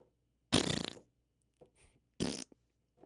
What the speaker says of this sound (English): it's just a fart with a reverb